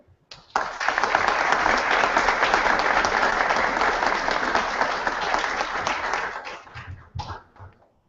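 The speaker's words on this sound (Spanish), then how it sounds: "pido en este momento un caluroso aplauso" Warm audience applause at a neuroscience conference in Ecuador, starting abruptly, holding as a dense steady wash of clapping for several seconds, then tapering off.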